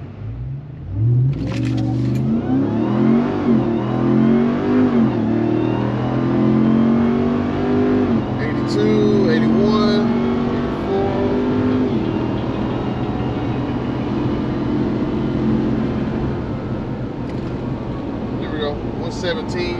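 A 2021 Ram TRX with QTP Aggressor exhaust cutouts open pulls hard from a standstill to about 80 mph, its engine roaring and climbing through shifts before easing into a steady cruise drone, heard from inside with talking over it.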